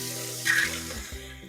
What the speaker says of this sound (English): Okay, and then I'm going to add a little bit of hot water.